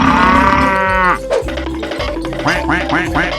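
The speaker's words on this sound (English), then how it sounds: "Cow." A cow in a 3D animal video game gives a loud, drawn-out moo lasting about a second, followed by quacking-like game sounds and a few short voiced bursts.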